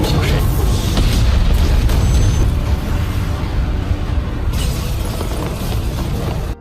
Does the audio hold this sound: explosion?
yes